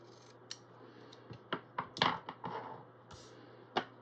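Scissors snip through floral paper for a planner layout, a quiet close series of sharp short cuts at an uneven pace, no voices.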